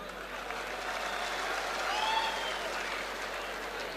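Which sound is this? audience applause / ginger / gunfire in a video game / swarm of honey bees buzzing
audience applause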